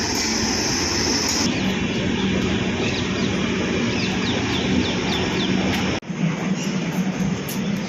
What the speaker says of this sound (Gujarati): ટ્રેન આવી ગઈ છે, હજુ ઊભી નહીં રહી.